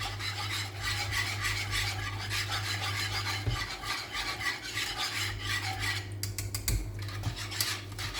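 A spoon scrapes and rubs steadily around the bottom of a pan of milk and vanilla pods heating toward a boil for a custard flan tart, close and continuous, with a low hum beneath and a few light knocks.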